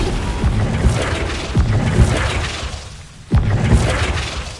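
Flipendo spell cast in Hogwarts Legacy: several heavy booming impacts with crashing, shattering debris, loud and close, separated by brief rumbling lulls.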